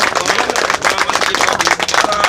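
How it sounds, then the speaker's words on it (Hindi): An audience at a women's gathering protesting the government bursts into sustained, dense clapping, loud and close, with many hands beating in a quick irregular patter for a couple of seconds. "उनके लिए एक बार ताली हो जाए"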